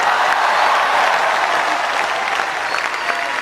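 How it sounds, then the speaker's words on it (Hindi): At a Hindi poetry recital, an audience breaks into loud, sustained applause, a dense continuous patter of many hands that eases slightly toward the end. "तालियां तो आपकी अब उठेंगी"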